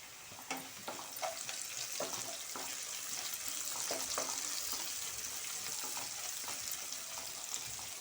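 Onions fry in hot oil in a pan for vankaya vepudu, a steady close sizzle with occasional scraping stirs and brief crackles as curry leaves go in.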